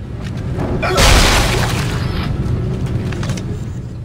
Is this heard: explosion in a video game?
yes